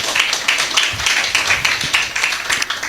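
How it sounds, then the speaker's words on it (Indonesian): A church congregation claps steadily during a service, quick, fairly even handclaps close by with no voices. "berikan tepuk tangan bagi Tuhan"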